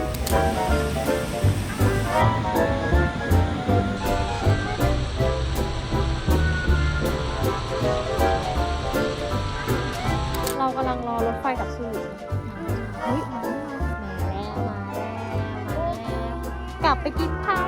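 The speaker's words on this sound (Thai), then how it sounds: "อันนี้คือน้ำตกที่ใหญ่ที่สุดในยุโรปค่ะ" Steady broadband roar of Europe's largest waterfall, in Switzerland, heard up close and continuous throughout, with someone talking over the rushing water.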